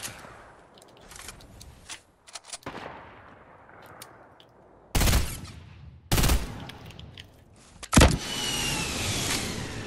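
Gunfire cracks out in a Fortnite match as enemies shoot from a mountaintop, with several sharp, loud bursts over a whooshing, shifting game background.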